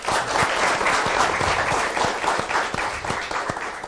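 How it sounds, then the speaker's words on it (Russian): Stormy applause from a student audience at a university meeting in a hall, dense sustained clapping that stays loud and steady throughout. "Под ваши бурные аплодисменты с удовольствием представляю вам Александра Георгиевича Дугина."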